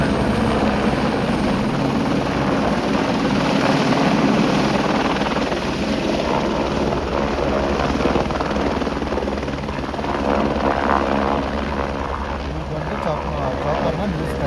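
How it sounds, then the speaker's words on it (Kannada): A helicopter coming in to land at the Kedarnath helipad in the mountains, its steady rotor thump and engine roar continuous and fairly loud throughout, with people talking faintly in the background. "ಸೊ ಈ ಒಂದು ಹೆಲಿಕಾಪ್ಟ್ರು ಬರ್ತಾ ಇದೆ, ನೋಡ್ಬೋದು."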